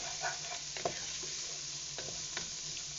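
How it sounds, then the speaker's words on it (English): Chicken noodle soup ingredients stirred in a pot with oil: a soft continuous sizzle with a few scraping knocks of the utensil, fairly quiet, no voices. "we are just going to get this all nice and stirred up"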